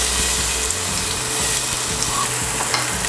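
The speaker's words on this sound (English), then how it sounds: "once our oil is ready, we're going to throw in our onion" Chopped onion hits hot oil in a stewing pot for beef stew, giving a steady, close, loud sizzle and crackle that holds throughout, with faint clinks and stirring underneath and no talking.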